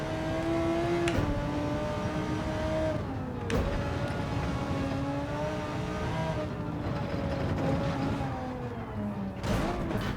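Continuous high-revving engine of a very powerful race car in Gran Turismo 7, harmonics rising and dropping through gear shifts, loud and steady for the whole stretch with no talk over it.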